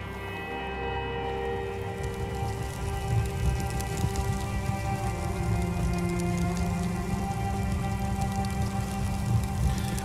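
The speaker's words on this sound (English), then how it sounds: "We need something to shield us from the hail." Hail falls steadily in the video game The Fidelio Incident as a dense, continuous patter over a low rumble. It holds at an even loudness throughout, with no speech.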